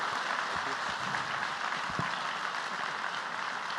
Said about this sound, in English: Ladies and gentlemen, a big round of applause for Leander Paes.